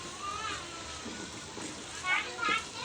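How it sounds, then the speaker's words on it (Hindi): Water is poured into flour dough with soft splashing and sloshing, faint and close, while voices talk over it, including a child's. "ये जी आप पानी डाल रहे हैं।"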